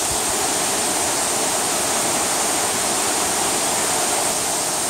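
The Wallkill River rushes loudly past the old water wheel of an abandoned paper mill in Hamburg, a dense, constant roar of churning water with no voices.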